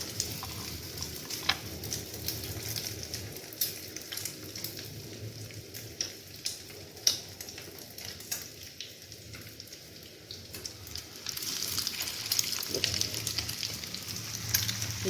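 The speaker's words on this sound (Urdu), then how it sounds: "یہ چاروں جب تک فرائی ہو رہے ہیں" Potato bun kabab patties fry together in a shallow pan, a steady close sizzle with crackling pops that grows louder and brighter toward the end, no voices.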